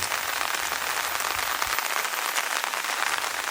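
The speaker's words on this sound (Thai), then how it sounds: "บรรยากาศยามฝนตก ที่ศูนย์บริการนักท่องเที่ยว" Steady rain patters densely on a hard surface at a tourist service center, a continuous even hiss with no voices and no pauses.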